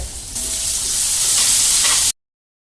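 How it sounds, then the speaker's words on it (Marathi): Loud, steady sizzle of cumin seeds dropped into hot oil, a bright hissing crackle that holds for about two seconds before cutting off abruptly. "तेल गरम झाला आहे आता आपण त्यात जिरं टाकून घेऊया"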